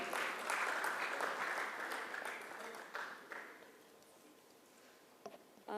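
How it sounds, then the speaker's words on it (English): An audience at a Mumbai futsal team announcement event applauds guests from the MCA and BCCI. Loud, steady clapping opens the moment and gradually thins out and fades over several seconds, leaving a few scattered claps. "Everybody, a huge round of applause for them."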